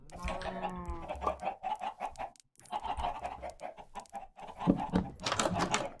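Minecraft chickens cluck on a farm, a busy run of short, repeated clucks and squawks in an irregular rhythm, fairly faint, with no talking.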